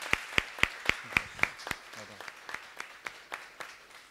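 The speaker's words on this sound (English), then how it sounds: "Can we give young Kevin another round of applause?" A small audience at a school TEDx evening claps in sparse, evenly spaced beats, sharp and fairly close, with a few scattered claps fading out and a brief voice in between.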